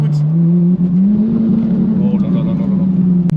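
Ferrari 458 Italia naturally aspirated V8 with an IPE exhaust, loud and close, holding a steady high-pitched drone that climbs slightly in revs before easing back.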